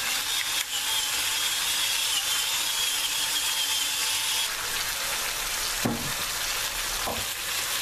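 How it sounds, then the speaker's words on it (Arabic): Chunks of chicken and onion fry steadily in a pan, a dense, close hiss that runs unbroken throughout, with a couple of brief scraping stirs near the end and no voices. "أقلب المكونات مع بعضها البعض جيدا حتى يتقلى الدجاج ويذبل البصل"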